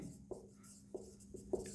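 Pen or chalk writing during a differential calculus lesson, four faint, sparse scratching strokes spaced across a quiet background, with no talk.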